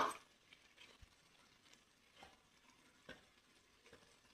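Fish cooks in masala in a pan on a gas stove with a faint, low sizzle, broken by a few soft scrapes and taps, and no voices.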